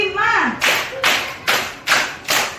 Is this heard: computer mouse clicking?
no